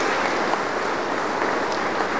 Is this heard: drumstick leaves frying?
no